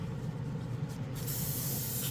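An airbrush sprays thinner during cleaning, giving a steady close hiss that swells louder partway through and continues to the end.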